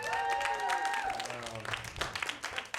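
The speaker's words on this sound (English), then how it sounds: "One more big round of applause for Tucker Millett" A comedy club audience breaks into a dense round of applause for a comedian, the clapping loud and sustained before thinning into scattered claps at the end, with a voice speaking over it.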